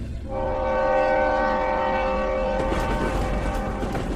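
In a Bengali horror audio story, a train bound for Panagarh sounds its horn loudly and steadily for a couple of seconds, then the rolling rumble of the train carries on alone.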